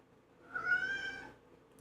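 A cat gives one clear, drawn-out meow close by, rising and falling over about a second, alone in a quiet room.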